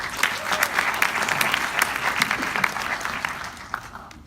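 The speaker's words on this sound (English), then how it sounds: "Please welcome him with a loud applause." An audience at a Shia–Sunni conference bursts into sustained applause for an introduced speaker, a dense crowd of claps close by that fades toward the end.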